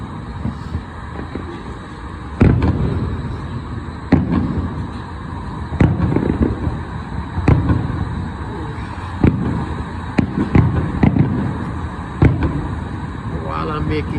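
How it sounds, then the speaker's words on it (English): Fireworks burst over New York City before the Fourth of July, a string of sharp booms and crackles at irregular intervals over steady crowd and city murmur, with voices in the background. "the millions of people come from all over to watch firework in New York"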